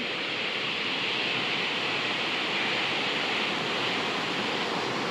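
Steady, dense roar of falling water at the third tier of a mountain waterfall at Mae Kampong, loud and unbroken throughout, with no voices.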